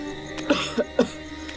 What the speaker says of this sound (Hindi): 3-4 दिनों से खांस रहा है